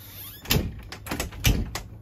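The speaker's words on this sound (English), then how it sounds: "every once in a while you just open the door, grab the frame, pull it in" The door of a 2020 Forest River Flagstaff 627M RV, pulled in by its frame, gives several close clunks and rattles, with two heavier thuds.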